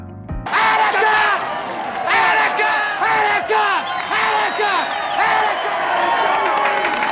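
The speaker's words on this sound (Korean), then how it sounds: "군중들의 환호를 받게 되는 것이었습니다" A large crowd roars and chants in loud, repeated surges of shouting, with rhythmic rising cries that swell and fall throughout.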